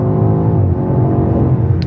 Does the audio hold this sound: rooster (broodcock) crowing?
no